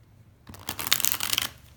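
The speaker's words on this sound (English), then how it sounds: "I'm going to shuffle 3 more times." Tarot cards being shuffled, close and crisp, a quick riffling burst of papery flicks lasting about a second after a short quiet start, with no talking.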